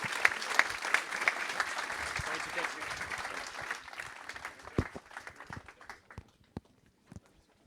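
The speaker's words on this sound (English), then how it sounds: "I would like you to give a big round of applause to our speakers." Conference audience applause for the speakers, a steady round of clapping that thins out into scattered individual claps and fades, heard from within the room.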